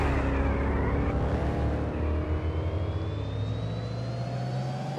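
A fully electric car accelerating in a racing video game, a loud continuous motor whine rising steadily in pitch, heard alone without talk.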